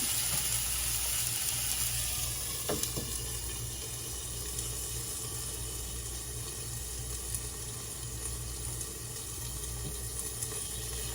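Water splashed into a hot pan with a burger patty topped with provolone, then covered so the cheese melts; a steady, fairly loud sizzle and hiss runs throughout with a faint metallic clink near the start.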